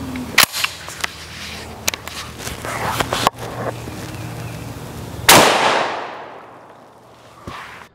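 A Mossberg 930 SPX 12-gauge shotgun fires buckshot at a cardboard target outdoors, one loud close blast with a long fading tail, set among scattered clicks and handling knocks.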